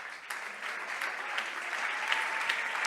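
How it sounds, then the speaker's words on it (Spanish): A church congregation claps steadily during a worship service, a dense, even wash of applause from many hands that holds throughout. "Dele un aplauso al Señor"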